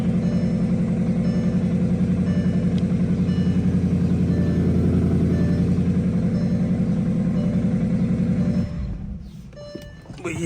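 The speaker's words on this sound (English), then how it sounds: "Both start right up." A Bentley GT V8 engine idles steadily after starting, a loud, even rumble that cuts off near the end, leaving a few faint clicks and rustles.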